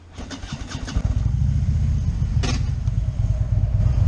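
A motorcycle engine starts and settles into an uneven, loud idle on a hot day, its temperature management system shutting down the rear cylinder, with irregular pops and a sharp burst midway.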